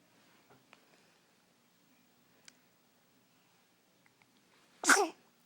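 A single sharp sneeze near the end after a few seconds of quiet with faint small clicks and ticks.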